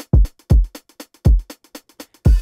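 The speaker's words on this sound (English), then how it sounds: "I'll solo the hats and the kick." Programmed kick drum and hi-hats soloed, with the hats sidechained to the kick: deep, punchy kick thumps land on a steady beat while short hat ticks duck after each hit and swell back between them, loud and close.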